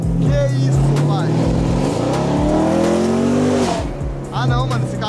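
A loud blue Corvette engine roars and revs hard up close, pitch climbing through gears with brief tire squeal, while people talk excitedly over it.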